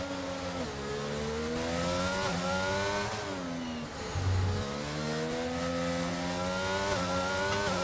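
A Formula 1 car in the racing game F1 22 on the Singapore circuit, its high-pitched engine screaming steadily through the gears with brief dips on downshifts, loud and close throughout.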